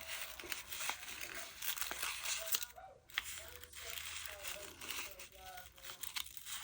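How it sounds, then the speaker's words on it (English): Crinkled fabric bias tape rustles and crackles softly as it is handled close by, in irregular bursts, while a person talks quietly over it. "this crinkled bias tape, I got it from"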